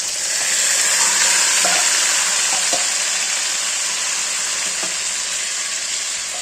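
Marinated chicken fries and is stirred in a pan with bay leaf and mace, giving a loud, steady sizzle throughout with a few soft scraping knocks from the stirring.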